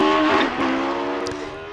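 Westfield car powered by a 1400cc fuel-injected Suzuki Hayabusa motorcycle engine at a hillclimb, a high-pitched engine wailing loudly and steadily, pitch dipping slightly as it passes close by.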